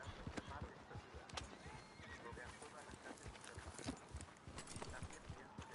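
Horse in Red Dead Redemption 2 whinnying and clip-clopping, with hoof thuds scattered across the whole stretch over a busy background, and speech running through it.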